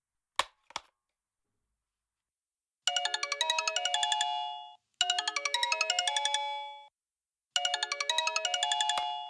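A mobile phone ringtone plays in three loud bursts of a bright, rapid chiming melody separated by short pauses, preceded by a couple of sharp clicks, with no talk.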